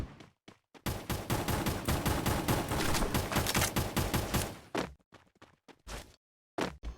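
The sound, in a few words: gunfire in a video game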